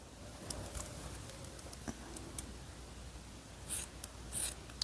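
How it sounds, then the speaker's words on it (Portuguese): Scissors trim excess fabric beside folded binding tape on a knit turtleneck blouse, giving soft scattered snips and two sharper crisp cuts near the end, quiet and close with no talk. "você refila com a tesoura"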